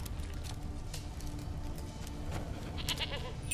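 A goat bleats in The Witcher 3: Wild Hunt, a few short calls rising over a steady low farmyard ambience, with no talking.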